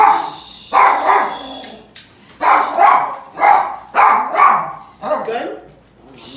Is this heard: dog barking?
yes